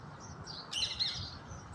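A few short, high bird chirps rise briefly over a steady low outdoor hum, faint and somewhat distant.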